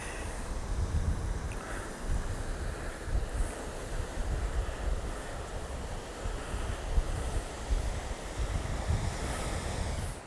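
Ocean waves and gusting wind at the Medway Head lookout on Nova Scotia's South Shore, a loud, steady surf roar with buffeting wind noise across the microphone, continuous throughout with no voices.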